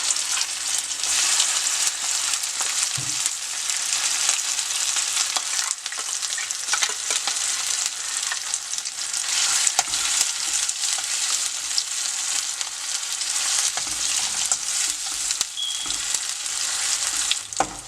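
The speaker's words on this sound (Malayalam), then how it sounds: "ഇനി നമ്മൾ അരച്ച് വെച്ചിരിക്കുന്ന ചട്നി നമുക്കിതിലേക്ക് ചേർത്ത് കൊടുത്ത് വഴറ്റാം" Ground beetroot chutney sautéing in a hot pan, a steady loud sizzle running throughout with occasional soft scrapes of stirring, no voices.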